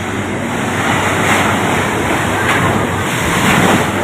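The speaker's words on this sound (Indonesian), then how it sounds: "Laut pantai selatan ngamuk." Rough sea waves surge and crash on the south coast under stormy weather, a loud continuous roar of surf with wind buffeting the microphone.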